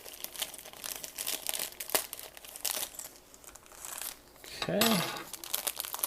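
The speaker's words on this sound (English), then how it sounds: "Actually, I'll just use my X-Acto knife to cut that open." X-Acto knife slicing open crinkly plastic packaging for a Millennium Falcon model kit part, close-up crackling and tearing in bursts, with a brief spoken word near the end.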